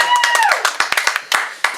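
At a standup comedy open mic at Studio Anatomy, a performer's voice gives way to a handful of scattered, close individual claps from a small audience, sparse and uneven rather than a full ovation.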